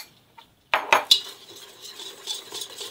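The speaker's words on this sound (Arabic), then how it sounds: "نخلط مليح الدقيق مع الفارينه." Semolina and flour being stirred together in a bowl, starting with a few sharp utensil knocks against the bowl and then a soft, continuous scraping and stirring, close by with no talk.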